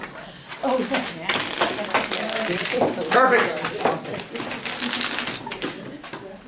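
A room full of people shuffling decks of playing cards, a dense, overlapping clatter of riffles and flicks, with voices talking over it.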